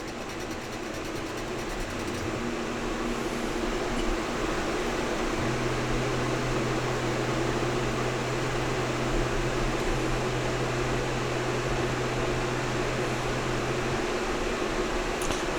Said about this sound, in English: The printing's been going on for about an hour now, and it has less than a minute to go printing the front for the dust extractor.